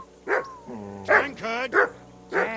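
A dog barks in Kingdom Come Deliverance 2: three sharp, close barks spaced about a second apart, with a voice talking in the gaps.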